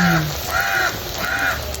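Crow caws three times in a row, loud and close, over a low steady background hum in a kitchen where Jaffna-style fried sweets are being made.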